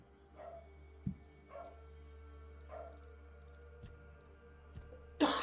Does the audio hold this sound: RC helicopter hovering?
no